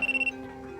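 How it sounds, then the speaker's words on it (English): A telephone ringing after 123 is dialled for the speaking clock, a short run of rapid pulsed electronic ring tones that stops after a moment, leaving a low hum. "is this phone's ringing"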